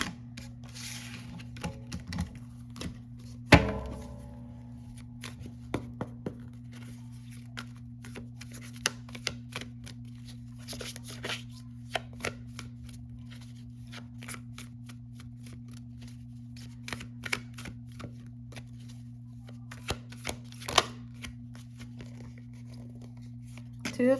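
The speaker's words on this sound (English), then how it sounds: "I'm going to go to my tarot deck and I'm going to see what kind of message we get" A tarot card deck is shuffled and handled at close range, with a sharp riffle burst early on followed by scattered soft card slaps and shuffling ticks over a steady low electrical hum, with no talking.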